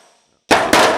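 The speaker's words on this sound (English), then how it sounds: "bringing the dolly back and forth with the planishing hammer" After a brief quiet hiss, a sharp metallic clang bursts in, followed quickly by a second loud clattering strike, as a pneumatic planishing hammer on its lowest setting works an aluminum Austin Healey shroud over a dolly.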